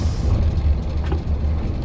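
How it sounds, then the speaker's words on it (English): A loaded 7.5-ton tiny house truck rolls down a steep hill, its air brakes letting out a hissing rush over the deep, steady rumble of the engine. "This is when the good old air brakes come into their own."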